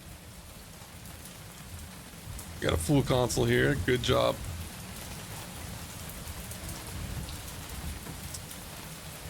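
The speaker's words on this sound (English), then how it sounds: "it's raining today." Steady rain hisses throughout in the video game Mon Bazou, with a brief stretch of talk partway through.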